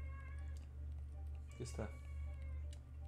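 A house cat meows once or twice, fairly close, over a constant low hum from a game playing in the background, with a French-speaking voice briefly talking around it.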